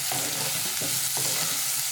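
Salted ivy gourd (kovakka) sautéing in a pan, a dense close sizzle with three or four distinct spatula scrapes as the pieces are turned.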